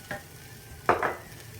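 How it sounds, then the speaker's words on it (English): Two quick scraping stirs of a utensil through chicken in a hot pan, over a faint background sizzle. "you need to be stirring that all the time while it's stir frying."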